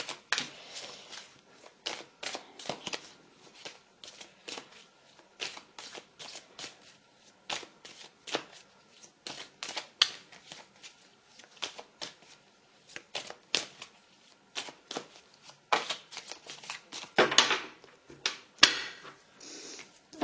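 Oracle cards being shuffled for a weekend reading, a steady run of soft papery riffles and flicks, close and fairly quiet, with a brief rougher burst near the end.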